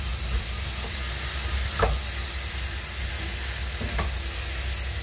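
Cuttlefish sautéing with onion and ginger in a pan gives a continuous, fairly loud sizzle, broken by a few brief scrapes of stirring.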